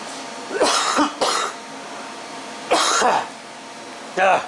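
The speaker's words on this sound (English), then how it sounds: "Don't worry about that cough, I'll live." Four harsh coughs from a person recovering from COVID come close up, first a pair, then a single one after a pause, then a last one, with near-silence between them.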